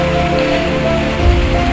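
Steady rain patters on a surface outdoors during the rainy season, a dense continuous hiss with a low rumble near the end and no voices.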